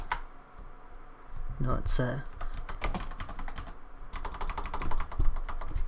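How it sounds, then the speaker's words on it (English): Rapid bursts of typing on a computer keyboard, close and crisp clicks, with a brief spoken voice over the keystrokes. "sometimes I just randomly start typing in stuff"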